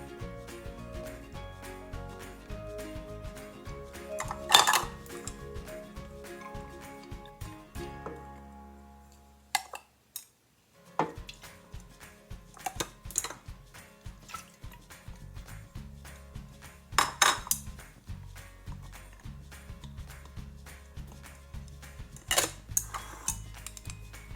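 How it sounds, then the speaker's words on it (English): Sriracha and other ingredients go into a pan with scattered clinks and taps of utensils and containers, sparse and close, with a brief quiet pause partway through. "I'm just putting all the ingredients in this pan"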